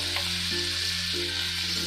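Capsicum pieces and ginger paste fry in hot oil in a pan, giving a steady, close sizzle that runs evenly throughout with no talking.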